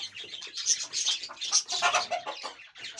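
Hens cluck and chatter in short bursts, fairly close, with a few higher chirps mixed in and no talking.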